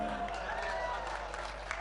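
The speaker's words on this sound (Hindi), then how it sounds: "तालियां गलत जगह बजा दी आपने।" Audience clapping at a Hindi kavi sammelan poetry recital, a steady wash of applause from a crowd filling the hall throughout, fairly loud with no clear break.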